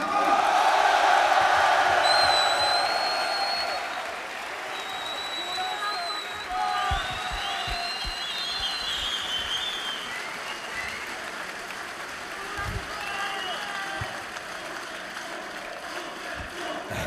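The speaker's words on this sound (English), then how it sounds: "on peut les applaudir bien fort une dernière fois" Audience at the Grand Rex in Paris applauding after a StarCraft final, a dense wash of clapping and cheering that is loudest at the start, then fades to a softer, sustained crowd murmur.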